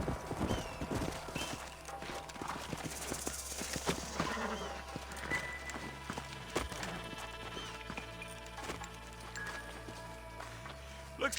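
Steady clip-clop of horse hooves walking on hard ground, with a brief horse whinny and background sounds from the video game Red Dead Redemption on Nintendo Switch.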